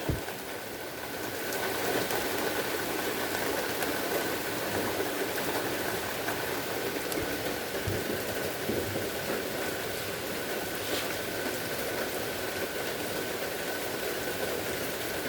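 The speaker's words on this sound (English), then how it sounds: "It is raining." Steady rain falls continuously, a dense, even hiss of drops on surfaces that stays constant throughout with no voices.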